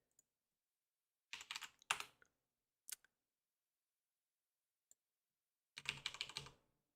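Bursts of typing on a computer keyboard, two clusters of rapid close key clicks separated by a few isolated taps and quiet gaps, with no voices.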